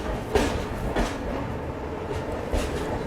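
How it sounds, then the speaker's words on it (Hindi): A train runs through Igatpuri station while overtaking the Mahanagari Express, giving a steady low rumble with soft rhythmic clatter and occasional thumps. It is moderately quiet throughout, with no speech. "हम लोग इगतपुर स्टेशन को स्किप कर रहे हैं और साथ ही साथ महानगरी एक्सप्रेस को ओवरटेक भी कर रहे हैं।"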